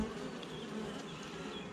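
A colony of honeybees swarms in a town setting, giving a steady, dense buzz. The hum stays even and moderately loud for the whole stretch, with no voices.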